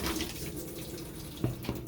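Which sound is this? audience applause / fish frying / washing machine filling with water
washing machine filling with water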